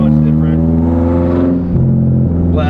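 Nissan Silvia S15, a right-hand-drive JDM car fitted with blast-pipe exhaust, revs loudly and steadily up close, with a dense engine drone that dips and climbs again near the end.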